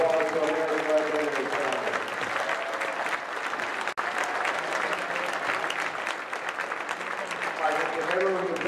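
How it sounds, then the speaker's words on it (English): Sustained, dense applause fills a school event honoring Coach Ron Bell at Marist School, a continuous wash of many hands clapping at once, with voices mixed into the crowd throughout. "Let's give a huge round of applause for everybody."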